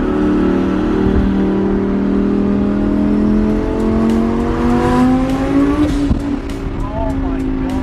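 A twin-turbo Lamborghini accelerates hard at night, its engine note rising steadily through the gears with loud, close roaring from inside the cabin and a quick shift partway through, while voices talk over it.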